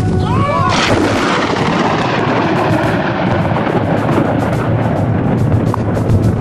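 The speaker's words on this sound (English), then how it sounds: "When lightning strikes, it makes a lot of noise and can do a lot of damage" Loud, rolling rumble of thunder that swells and lingers as a broad, continuous roar, with a brief chirping sound near the start.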